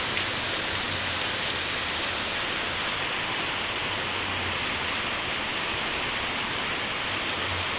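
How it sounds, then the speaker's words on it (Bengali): Heavy monsoon-style downpour pours down in a steady, dense hiss, even and unbroken throughout, with no one speaking. "এই যে নেমে গেছে মুসলধারায় বৃষ্টি"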